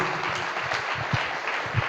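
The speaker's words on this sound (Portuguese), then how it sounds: "Vamos aplaudir o nome de Jesus." A church congregation clapping steadily and continuously, dense applause with a few louder claps standing out near the end.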